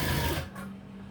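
A sewing machine stitching a blouse gives a brief, close whirring run that stops partway through, leaving a low hum.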